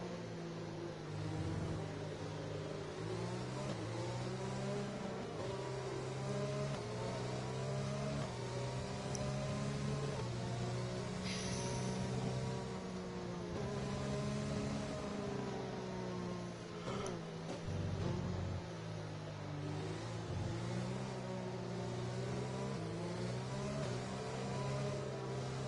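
Race cars in an F1-style racing video game at the Bahrain round, a steady, loud, continuous engine whine with shifting pitch as the cars drive on, alone with no talk.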